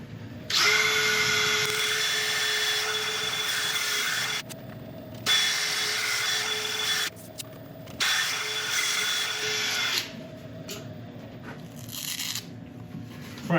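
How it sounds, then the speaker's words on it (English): A power drill spins a Scotch pad against a finished woodturning, buffing it in a steady, close whir that runs in several long bursts separated by brief pauses. "I'm going to go over it now with a drill and a Scotch pad"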